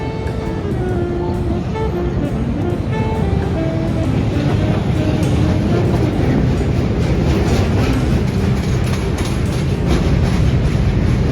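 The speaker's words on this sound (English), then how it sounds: "And now we're taking Chicago Metro for the first time" A Chicago Metro train runs through a snowstorm, a steady loud rumble and rattle of wheels on rails with faint rhythmic clatter throughout.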